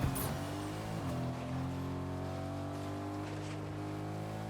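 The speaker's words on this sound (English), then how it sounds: "I think my car just, like, stalled." A stalling car engine in the video game Fortnite: low engine drone with steady harmonic hum, a brief louder burst at the start, then the engine settles into a constant idle-like rumble.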